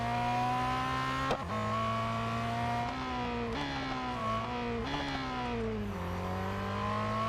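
Ferrari 360 Modena engine in the Real Racing 3 racing game, a loud continuous drone that holds steady and drops in pitch at each of several gear shifts, with no talking.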